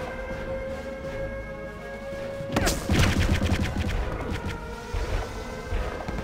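Rapid super rifle fire in Return to Castle Wolfenstein, a sudden loud burst of crashing shots that keeps going in a dense, ragged fusillade for several seconds after a steady hum.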